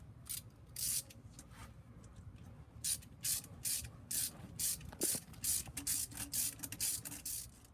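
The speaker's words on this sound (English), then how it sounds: "put the clamp over, and tighten it" A ratcheting metal hose clamp being tightened on intake piping of a 2005 Hyundai Accent, with repeated short bursts of clicking at irregular intervals, close by and with no talking.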